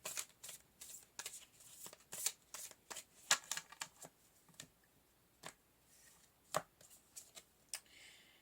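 Oracle cards are shuffled and drawn in close, quiet, irregular riffles and soft slaps, with short bursts separated by brief pauses.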